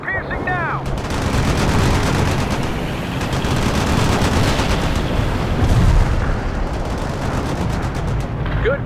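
Heavy armor-piercing gunfire and booming impacts in the World in Conflict war game, a dense, continuous barrage of shots and blasts layered loudly through the whole stretch, with brief radio-style voice chatter near the start.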